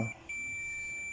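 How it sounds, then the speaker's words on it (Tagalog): A steady high-pitched electronic beep from a continuity tester's buzzer on a capacitor holds continuously after a brief opening bump, fairly faint and alone. "Yan buzzer guys yung tester"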